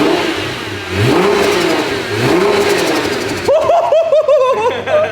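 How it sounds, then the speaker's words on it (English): A Nissan GT-R engine revs hard several times in quick bursts, with sharp hissing blow-off valve releases after each rev, loud and close. "Those blow valves sound sick."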